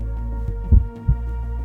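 A heartbeat sound effect in a horror tabletop game session: two soft low thumps about a third of a second apart, set over a steady low hum with no talking.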